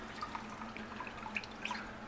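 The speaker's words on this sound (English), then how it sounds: "I'm going to wring it out." Water drips and trickles from a compressed towel tablet being wrung out by hand, giving scattered small splashes and droplets over a soft, steady background hiss, quiet and close, with no voices.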